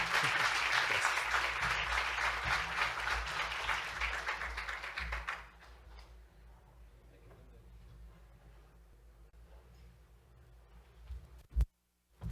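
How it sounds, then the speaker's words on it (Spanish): An audience gives a sustained round of applause to welcome a speaker at a university faculty talk. The clapping is dense and fills the first half, then fades into quiet room noise with a sharp knock near the end. "¿Qué tal si lo recibimos con un caluroso aplauso?"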